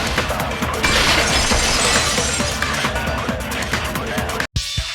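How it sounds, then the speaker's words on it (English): A glass-shattering sound effect from the video game Danganronpa V2 bursts loudly into a sustained crash of breaking, tinkling shards lasting several seconds before a sudden cutoff and a brief quieter tail. "the girls heard the sound of the window shattering"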